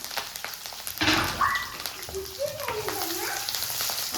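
Onions and curry leaves frying in hot oil, a steady crackling sizzle that swells loudly when they hit the pan and continues under talk.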